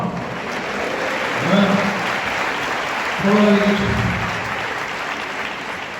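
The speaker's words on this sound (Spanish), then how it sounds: "xa ven como vos aplauden" Audience applause at a Galician-language stage show, a broad steady wash of clapping with voices talking over it and brief surges of louder cheering.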